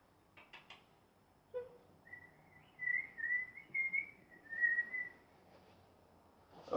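A person imitates a bird by whistling a series of short, high, warbling tweets. The chirps come in a loose run over a few seconds, close and fairly quiet, after a couple of brief clicks, with no speech.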